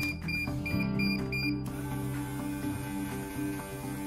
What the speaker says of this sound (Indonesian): Ketika alarm dari buzzer ini berbunyi